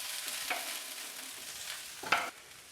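Chopped leeks frying in a pan over low heat, a soft steady sizzle with a couple of brief stirring scrapes, close and quiet, no talking.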